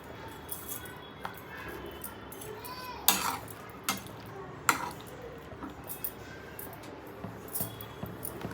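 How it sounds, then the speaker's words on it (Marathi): Raw mango pieces with a little sugar being stirred in a pot: scattered metallic clinks and scrapes of a spoon against the vessel, a few sharper knocks, close, over a quiet background. "आता आपण हे छान हलवून घेऊया"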